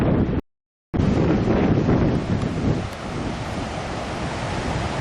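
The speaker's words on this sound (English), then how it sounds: "They come here for the ocean." Ocean waves during a king tide at Roads End State Park in Lincoln City, Oregon, in December: a steady, roaring wash of surf mixed with gusty wind buffeting the microphone, interrupted by a brief dropout near the start.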